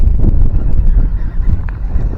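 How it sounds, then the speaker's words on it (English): Gusty wind at an outdoor fishing pond, a steady loud low rumble of buffeting on the microphone that swells and dips throughout, with no voices. "I didn't think it was gonna be so windy."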